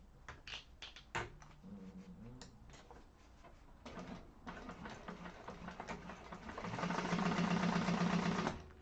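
A sewing machine topstitches a Yasmota handbag in steady runs, its motor hum rising to a loud sustained burst near the end, with short starts and stops and handling clatter before it.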